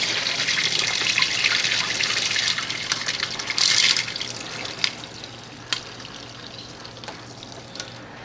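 Tap water runs steadily into a vibratory tumbler bowl being refilled and rinsed of dirt and rust, a continuous trickling gush with a few sharper splashes and clunks near the end.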